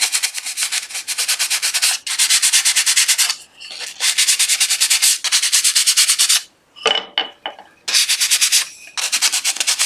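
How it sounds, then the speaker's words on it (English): Light hand sanding of a wooden dovetail box to remove fuzzy fibres: loud, close rhythmic back-and-forth rasping strokes in long steady runs, with short pauses and a few lighter scuffs between them. "Just a light sand to get those little furry bits off."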